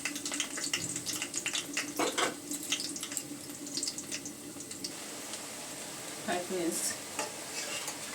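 Small prawn fritters fry in hot oil with a steady soft sizzle, broken by scraping stirs and clinks as they are lifted out, close and moderately quiet with no talk.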